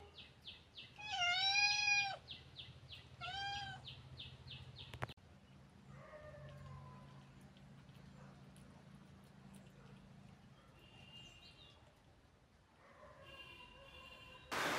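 A house cat meows several times, loud drawn-out calls at first, then softer ones after long pauses, over a low steady background hum.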